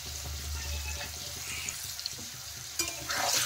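Paneer cubes fry in a pan with turmeric and salt, giving a steady close sizzle with light stirring scrapes and a brief clatter near the end.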